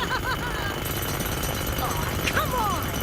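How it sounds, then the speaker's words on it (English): Jackhammer pounding in an animated cartoon, a steady loud rattling drone throughout, with brief cartoon voice and squeaky sound effects layered over it. "Jackhammer."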